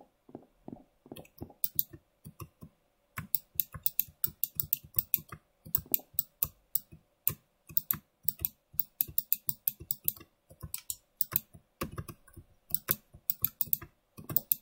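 Rapid computer mouse clicks while playing a short horror game, dense irregular bursts of crisp clicks running throughout, close and alone with no talking.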